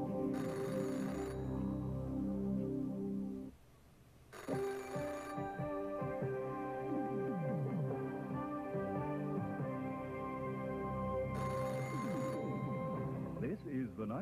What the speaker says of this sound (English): my phone ringing